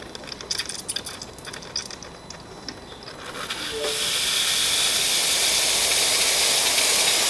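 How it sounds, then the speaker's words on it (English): Steam wand of an ECM Giotto espresso machine, freshly serviced, starts up with a loud, steady broadband hiss that takes over after a few seconds of quieter clicking and handling sounds. "Test the steam."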